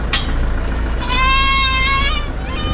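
Goats bleat at a livestock market, a drawn-out wavering bleat standing out clearly over steady crowd and market din, with a sharper short cry just before it.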